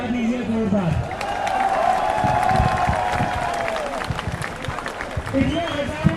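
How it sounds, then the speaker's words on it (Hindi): Applause and cheering from a large protest crowd at Jantar Mantar, a dense wash of clapping with shouts rising over it, sustained and loud throughout with some voices mixed in. "आप लोग खुद के लिए तालियां बजा दीजिए जोरदार।"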